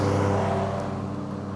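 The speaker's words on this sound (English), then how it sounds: "I'll let this old guy and his John Deere green tractor do his mowing thing." John Deere green tractor mowing nearby, a steady engine drone with a low hum that fades slightly as it moves along, heard alone without talk.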